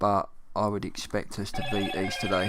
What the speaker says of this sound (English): Excuse my phone, I will turn that off.